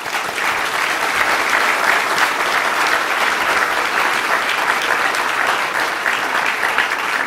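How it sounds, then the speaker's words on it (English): An audience at an evening history talk applauds, a loud, dense and sustained round of clapping that holds steady throughout with no voices on top. "Can we give another round of applause?"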